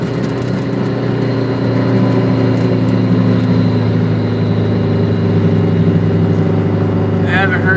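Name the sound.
old Detroit diesel truck engine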